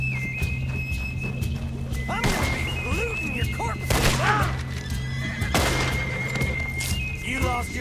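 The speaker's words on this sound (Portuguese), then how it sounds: "encontrei um cavalo muito bonito. É um Paint Horse americano, um animal corajoso e resistente" An American Paint Horse in a hunting video game neighs and whinnies in several loud bursts, with hoof clip-clop, thuds and crashing impacts mixed in over steady game background noise.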